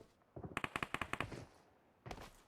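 Automatic gunfire in the mobile shooter PUBG Mobile rattles off as a rapid burst of about ten evenly spaced shots, followed by one more short burst, crisp and fairly quiet.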